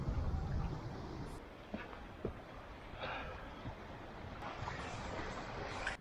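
River water rushes where the stream splits in two, a steady, soft, broad wash that is faint and continuous with slight swells and no voices.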